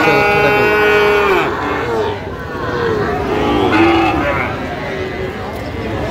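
Cattle at a livestock market low and moo in long drawn calls up close, with a crowd and other market noise around them.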